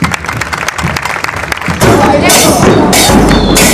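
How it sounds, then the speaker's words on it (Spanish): At a 2020 carnival corso in Zapala, a murga audience claps and cheers after a few heavy thumps. The crowd noise swells loudly and holds, with voices mixed into the applause. "Un aplauso a ustedes."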